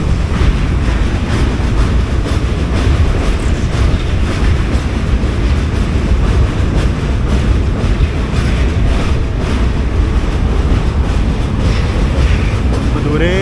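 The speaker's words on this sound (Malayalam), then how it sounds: "ദൂരേന്നൊരു മെട്രോ ട്രെയിൻ അതോട്ട് കയറുന്നുണ്ട്" A metro train runs somewhere in the distance, a steady, broad rumble with a faint rhythmic clatter that holds for the whole stretch and never drops out.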